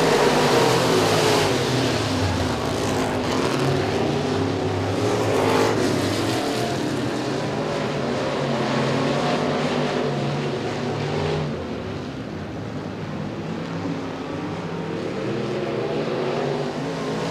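Pro stock race cars roaring around the Stateline Speedway oval during a heat race, a continuous loud engine drone that swells and fades as cars pass at speed, dipping briefly before building again, without audible talk.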